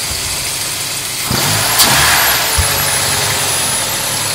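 A Mercedes 190E engine idles while warming up, a steady low rumble heard close, swelling slightly as the revs lift briefly before settling back to an even idle.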